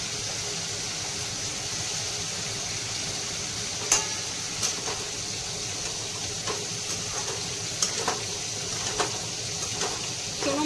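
Fresh greens and vegetables with salt, turmeric and green chilli sizzle gently in a pan, while scattered sharp scrapes and clacks of a stirring spoon sound over a steady frying hiss.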